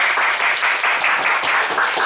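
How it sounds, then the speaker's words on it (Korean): A church congregation applauds together during a sermon, steady dense clapping filling the room for about two seconds. "박수 좀 한번 쳐주세요."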